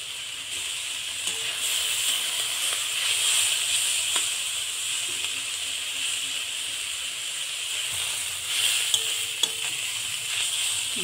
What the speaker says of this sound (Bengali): ভেজগুলো আমার স্যাঁতলানো হয়ে গেল।